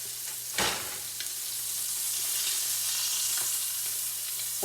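Scallops sear in a hot skillet with a loud, steady hiss that swells slightly as the pan is turned, opened by one sharp metallic knock.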